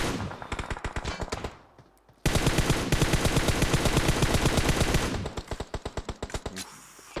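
Automatic gunfire in the mobile battle royale game PUBG Mobile, rapid close bursts of shots, a brief lull, then a long sustained loud volley that breaks into separate spaced shots.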